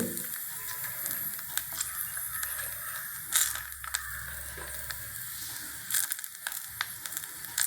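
Food frying in oil in a kadai, with a steady broadband sizzle and crackle running throughout and a few louder bursts of spitting and stirring; no one speaks.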